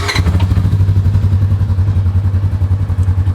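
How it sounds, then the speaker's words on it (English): Polaris RZR 900 side-by-side engine runs at a steady, loud, close idle with a rapid throbbing low pulse after a brief clattering catch at the start, with no talking. "We're going to go ahead and start the car up."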